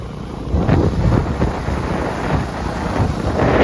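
Steady heavy rain hisses and roars close by, with a low rumbling layer of thunder and wind buffeting underneath; no voices are heard.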